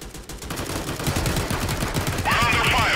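Rapid bursts of game gunfire crackle through a firefight in Tales of Glory 2, dense repeated shots mixed with battle noise and voices, with a brighter, louder burst near the end.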